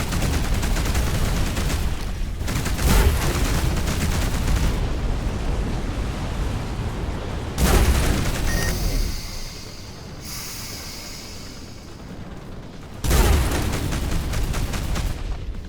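Spaceship gunfire and explosions in a space combat game, long dense bursts of loud roaring blasts and rapid fire, broken by a brief quieter stretch before another heavy volley.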